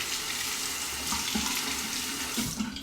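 Tap water running steadily into a sink to rinse a razor during a shave, close and continuous with slight splashing, no talk.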